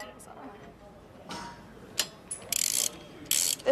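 Ratchet wrench clicking in short bursts as bolts are tightened to set torque during supercar assembly, with a voice speaking intermittently over the workshop sounds.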